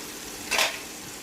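Silver fish frying in a pan, heard as one short swell of sizzling that rises and fades within a moment over an otherwise quiet kitchen background.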